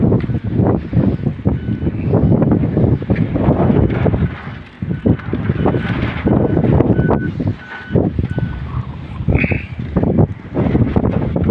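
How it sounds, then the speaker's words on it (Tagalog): Loud, gusty wind buffets the microphone continuously, with rumbling bursts and brief lulls throughout. "hangin, malakas ang hangin."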